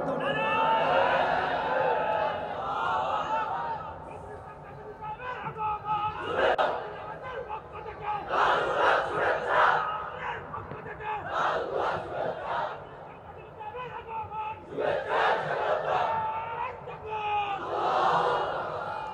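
A large crowd at an Islamic sermon gathering roars the takbir call in repeated loud surging waves, with chatter and a voice over a loudspeaker between the shouts.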